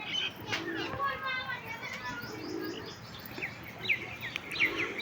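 Pigeons coo and chirp near and far while they peck at paddy spread out to dry, their soft calls coming in repeated bursts against steady background noise and faint children's voices.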